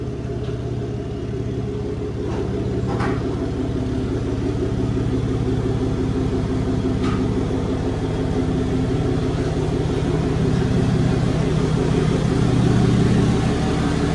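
A 3rd-generation Cummins diesel pickup truck engine idles and rumbles steadily at close range, a low continuous drone that holds without pause and swells slightly toward the end as it backs out.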